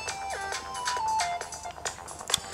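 A tinny electronic melody plays through the small speaker of a Samsung Young Y mobile phone, bright notes stepping up and down in a quick tune.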